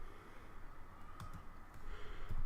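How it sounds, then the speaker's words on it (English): Keystrokes on a computer keyboard as a command is typed into a Linux terminal, a few quiet, irregular clicks over a steady background hum, with a short burst of taps near the end. "I will type in sudo"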